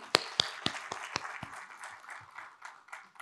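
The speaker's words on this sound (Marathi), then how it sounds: "सो आपल्या सर्वांसाठी एकदा टाळ्या होऊ देत." Audience at a PMPML Pune public transport centre inauguration and MoU signing event gives a brief scattered round of clapping, several sharp claps early then thinning to a light patter.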